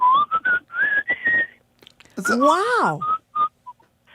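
A person whistles a short melodic tune live before an audience, bright wavering notes with a swooping glide near the end, and another voice briefly exclaims.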